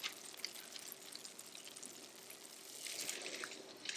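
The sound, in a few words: LECA clay pebbles crackling while rinsed in colander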